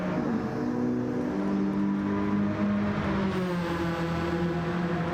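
A race car in an auto racing video game, its engine droning steadily and loud throughout with shifting harmonic pitch as it runs through corners, no voices.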